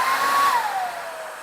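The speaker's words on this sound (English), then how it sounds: "I've got a hairdryer here, which is pretty noisy" A hairdryer on a warm, not the hottest, setting blows steadily over a Porsche Boxster 986 central locking control unit, a continuous loud whooshing whine whose pitch slowly sinks as the airflow settles.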